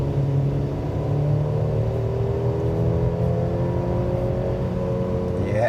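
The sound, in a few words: Mercedes-Benz E350 engine and exhaust accelerating in sport mode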